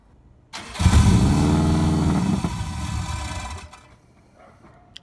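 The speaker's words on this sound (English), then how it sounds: "So we're gonna try to start it up right now without it on speed density on the stock map." A car engine cranks and fires up on its stock map without speed density, then runs at a rough, uneven idle for about three seconds before cutting off, loud and close with no talking.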